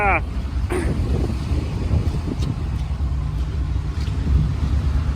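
A farm truck engine idles steadily as a low, continuous rumble close by, with someone talking over it throughout.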